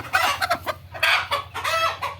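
Several Tiger breed laying hens cluck close by in quick, overlapping bursts, busy and fairly loud throughout.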